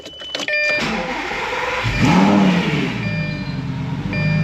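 A Lamborghini engine cranks and fires up after fault codes are cleared, swelling into a loud, close revving roar around the second mark before settling into a steady idle with chime-like tones over it.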